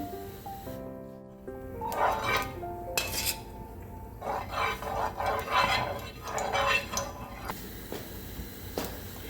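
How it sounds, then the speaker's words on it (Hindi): Ghee spooned onto a non-stick tawa: metal clinks and scrapes of a spoon against the pan come in short bursts, fairly quiet, with no voice. "मैंने एक नॉन स्टिक का तवा ले लिया है। अब इसके ऊपर मैं घी डालूँगी।"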